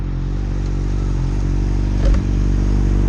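A 2009 Kawasaki ZX-6R motorcycle accelerating hard, a loud, close, continuous engine buzz with a steady rising drone and a brief clunk partway through.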